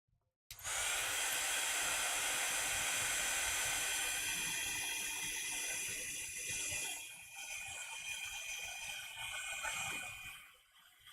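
A heat tool blasts a steady, close, loud airy roar for about ten seconds to shrink shrink plastic, dipping slightly partway before cutting off.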